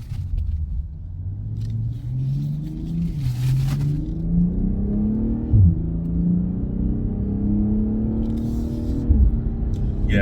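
A 2020 BMW 840i Gran Coupe in Barcelona Blue accelerates hard, its engine note climbing steadily then dropping briefly at quick gear changes, a continuous close rumble with no talk over it.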